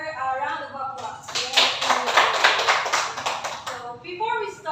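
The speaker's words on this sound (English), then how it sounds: "let's give her a round of applause" A classroom gives a round of applause, a burst of many hands clapping for a couple of seconds between stretches of a teacher talking.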